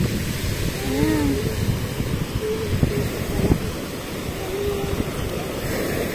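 Sea waves breaking on an island shore littered with dead corals and shells, a steady broadband wash of surf with gusty wind noise buffeting the microphone, a few faint voices in the background.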